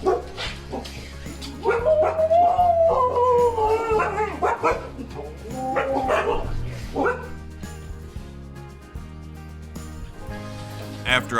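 Sled dogs howl, yip and whimper in an excited welcome, with rising and falling howls layered over barking and a steady background rumble, close and loud throughout.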